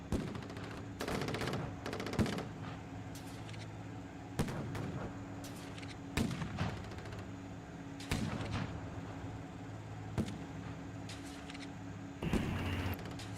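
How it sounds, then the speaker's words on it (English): Mortar impacts and gunfire in a combat video game set in Kandahar, with sharp, heavy blasts recurring roughly every two seconds over a low steady rumble and a faint voice. "Mortars."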